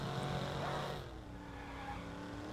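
A car in the Watch Dogs video game drives with a loud engine and tyres skidding early on, then the engine settles to a quieter steady hum.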